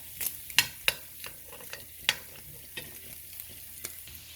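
Fried rice with carrots and butter stirred in a pan, giving a soft steady sizzle broken by several sharp clicks and scrapes of a spoon against the metal, with no talk.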